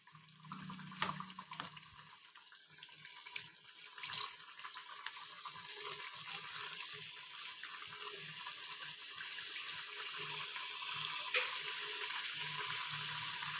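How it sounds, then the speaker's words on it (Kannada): Stuffed karigadubu deep-frying in hot oil gives a steady hissing sizzle that slowly grows louder, with a few soft bumps and splashes early on. "ಎಣ್ಣೆ ಕಾದಿದೆ, ಹಾಕೊಳ್ಳೋಣ ಬನ್ನಿ ಕರಿಗಡುಬನ್ನು"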